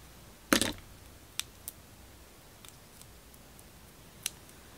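Scissors snipping a small piece of craft foam: one crisp close cut, then a few faint ticks and light handling noises in a quiet room.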